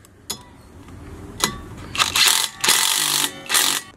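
Metal ratcheting and clanking as a 13 mm wrench tightens hardware on a Nissan 370Z brake rotor during a brake upgrade, with a few sharp clicks followed by longer bursts of ratchet noise, close and moderately loud with no talking.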